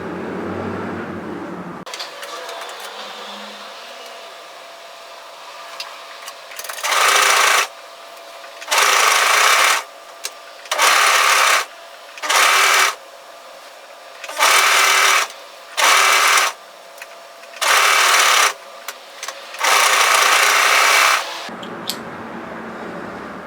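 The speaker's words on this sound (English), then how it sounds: "now I'm going to serge it" A serger overlocks a sweatshirt seam in a series of short bursts, about ten loud whirring runs of a few seconds each separated by quiet pauses, close to the microphone.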